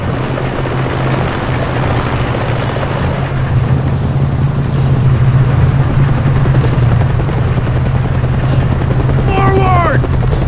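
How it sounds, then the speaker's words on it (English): Helicopter in Mercenaries 2: World in Flames on Xbox 360, a loud, steady rotor and engine drone running throughout, with a short warbling game effect near the end. "Cover me, I'm going for that helicopter."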